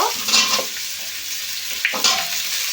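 Potato, plantain and papaya pieces fry in a pan for Bengali shukto, giving a close, steady sizzle broken by a couple of stirring scrapes.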